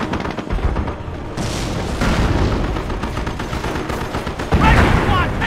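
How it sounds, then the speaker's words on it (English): Dense rifle and machine-gun fire with booming impacts from a Company of Heroes battle in the Normandy invasion at Cherbourg, a steady loud clatter of overlapping shots that swells near the end, with game voices calling out amid the firefight. "Rifle squad taking fire!"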